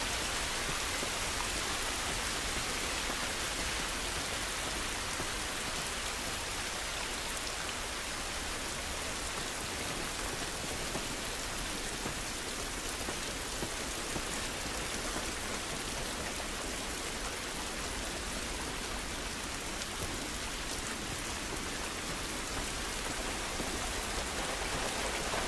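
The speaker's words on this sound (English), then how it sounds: "This rain ain't gonna do us any good." Steady outdoor rainfall in the video game The Last of Us, a constant even hiss of rain on surfaces throughout, no voices.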